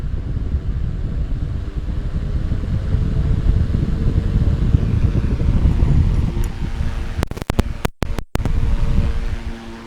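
A 12 volt DC motor fan runs at full speed, its close, loud whooshing rush of air buffeting the microphone steadily, with a few sharp clicks and brief dropouts near the end.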